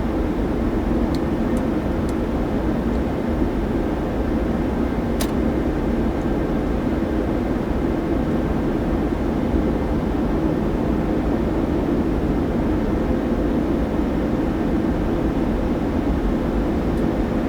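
A PMDG 737-800 airliner rolls along the runway in a flight simulator, giving a steady, loud, unbroken engine and rolling roar with a few faint clicks, no voices.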